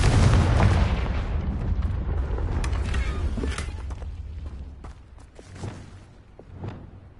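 Confringo spell cast in Hogwarts Legacy: a rumbling fiery blast opening loud, then decaying with crackling, creaking debris and a few faint later impacts.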